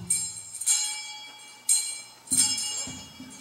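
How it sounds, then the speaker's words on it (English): A church bell rings slowly for Christmas, with a few loud bright metallic strikes spaced well apart, each leaving a long ringing decay that carries into the next. "The first bell rang very slow."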